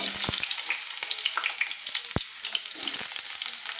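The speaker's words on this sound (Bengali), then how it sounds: "এই বেগুনগুলো একটু ভেজে নিচ্ছি।" Long-cut eggplant strips frying in hot oil for a Bengali vegetarian pui shak chochhori, a bright, loud, steady crackling sizzle close up, with a few sharp knocks of a utensil against the pan.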